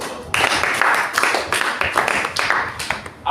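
Audience at a convocation ceremony applauding, a dense burst of clapping from many hands that swells and holds across the few seconds, fairly close and lively.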